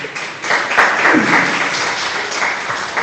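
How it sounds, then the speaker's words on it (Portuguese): Church congregation applauding in praise of Jesus, a dense, steady wash of clapping from a crowd filling the room at moderate loudness, with a few murmured voices mixed in. "Você pode aplaudir o Senhor Jesus?"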